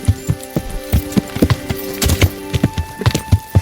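Rhythmic hoofbeats clop steadily on a hard surface in the video game Kingdom Come: Deliverance, a horse walking at a trotting pace, close and clear with a faint tonal hum behind.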